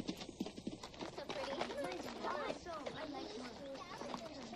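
Horse hooves clip-clop in a quick, uneven rhythm during a horseback ride in a family comedy film, and a horse whinnies as well, with voices talking and calling over the hoofbeats.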